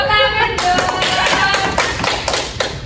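A classroom of pupils claps for a classmate after a duck imitation, bursts of applause with sharp taps over murmuring children's voices, close and lively.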